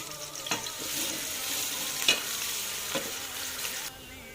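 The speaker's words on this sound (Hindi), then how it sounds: "हमारा कुकिंग ऑयल गर्म हो चुका है। अब इसमें हम ऐड करते हैं जी प्याज" Chopped onions sizzle steadily in hot cooking oil while a curry starts, with a few louder stirring scrapes and clacks in the pan. The frying hiss stays continuous, then eases slightly near the end.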